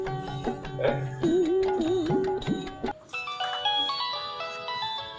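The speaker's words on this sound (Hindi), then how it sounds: "और किसका फोन है?" A phone ringtone sounds in a Hindi horror-comedy short film: a melodic electronic tune with a wavering, warbling line over a beat, then a brighter run of tinkling synthetic notes, loud and close.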